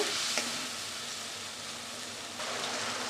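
Spice masala sautéing in a pan with a splash of water, giving a steady hissing sizzle throughout that is broken by a couple of brief sharp stirring clicks.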